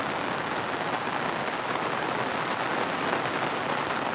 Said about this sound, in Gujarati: લગભગ સવારે ચાર વાગ્યાથી વરસાદ ચાલુ છે